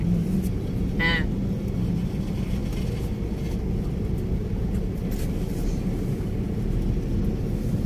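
Heavy road traffic in Santa Rosa, Philippines, makes a dense, steady engine rumble close by, with a brief higher squeal cutting through near the start.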